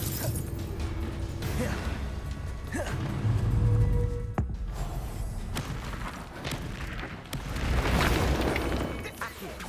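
Repeated Confringo blasting-spell explosions in the Hogwarts Legacy video game, booming bursts and mechanical clatter filling a dense, continuous game soundscape, with a voice speaking at times.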